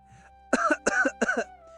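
A mother in a Hindi cartoon story coughs three times in a quick, harsh, close-up burst during a cold night, with no talking over it.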